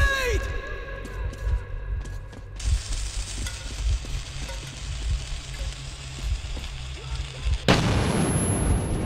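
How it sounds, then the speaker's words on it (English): A grenade explodes during a firefight in the Metro 2033 Black Station level, a deep booming blast with crackling debris over a continuous rumble, followed by a second loud burst near the end, with shouting voices mixed in. "Grenade!"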